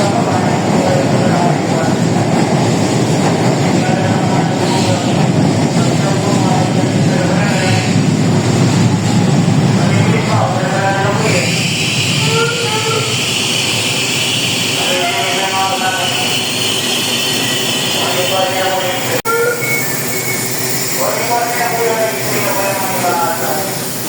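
A train pulls into a station platform while people wait, with a broad rumble and hiss giving way to squealing brake and wheel tones, loud and sustained, with people talking nearby throughout.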